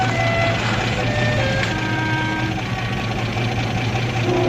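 A vehicle engine runs at a steady idle, a loud continuous rumble with a faint intermittent high whine on top, holding constant through the whole stretch.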